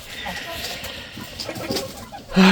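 Hens cluck softly outdoors in the winter sun on a small farm, their scattered calls mixed with low background noise, and a brief louder sound comes at the end.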